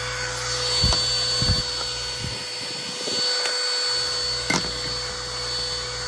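A SIMWAL mini handheld vacuum runs with its floor head on a long extension tube, giving a steady whine with a few bumps and knocks as the nozzle moves across the floor.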